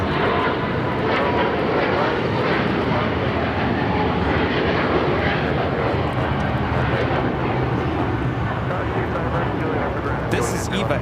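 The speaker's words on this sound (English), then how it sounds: "This is EVA Air Flight 5 taking off to Taipei on the 777-300ER." An EVA Air Boeing 777-300ER takes off from LAX bound for Taipei, its jet engines producing a steady, powerful roar throughout, with faint talk underneath.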